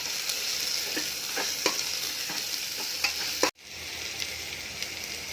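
Vegetables sautéing in a pan while cooking khichdi, a steady close sizzle with soft stirring scrapes recurring every second or so, a brief cut near the middle, then the frying hiss resumes alone.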